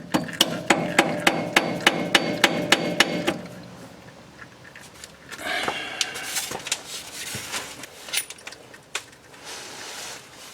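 A hammer taps a part off a Mahindra 5555 tractor during its first maintenance: about a dozen quick, evenly spaced metallic strikes, followed by looser clanks and rattles.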